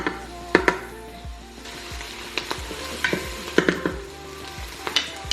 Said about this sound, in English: We're just waiting for those onions and celery to soften a bit.